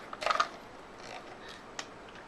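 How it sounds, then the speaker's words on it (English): The bolt of a Crosman M4-177 air rifle is pulled back, giving a short close mechanical rasp and click followed by a couple of fainter metallic ticks. "you pull the bolt back again"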